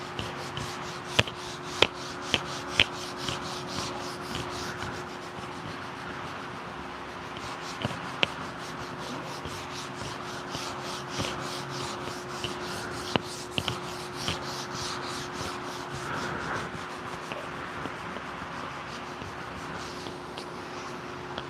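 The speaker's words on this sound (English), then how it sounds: "see if I can kind of sculpt that with the hand sandpaper" Hand sandpaper rubbing over a massive wood beam console table during finishing, a steady soft scratchy friction that runs continuously with a few sharper knocks and taps, fairly close and moderate in level.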